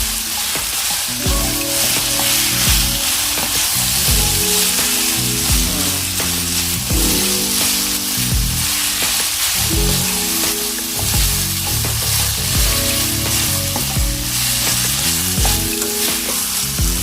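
Noodles stir-fried in a wok with chicken and beef meatballs for tamie capjay, a steady close sizzle broken by repeated scraping and tossing of the spatula, with a music bed underneath.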